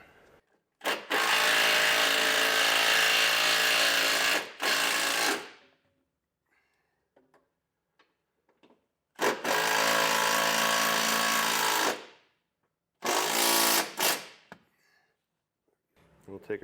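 A power drill drives a self-tapping screw during installation of an Air Lift WirelessONE compressor system on a 2019 Ford, with three loud, close whirring bursts of several seconds each separated by quiet gaps.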